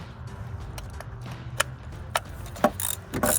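Hand ratchet clicking as it snugs ignition coil bolts into plastic on a 2005-2008 Mustang GT engine, a few short sharp bursts of ratcheting over a low hum, close and moderately loud.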